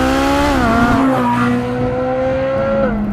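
A Ferrari F12 TDF with a 600-horsepower naturally aspirated engine, heard while driving: a loud, close, sustained high-pitched engine wail that shifts pitch as revs change, with no talk over it.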